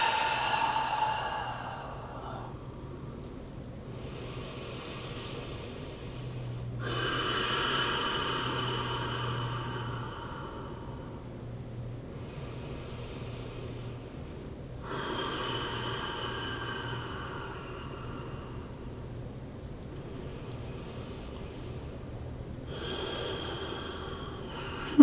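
Slow deep breaths in and out while rolling a ball under the chest and sternum, each long airy inhale and exhale close to the microphone, about four cycles separated by quiet pauses over a low steady hum.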